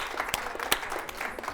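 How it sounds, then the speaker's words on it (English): Steady clapping from a small group, with a few sharper claps and a brief cheer poking through. "Round of applause."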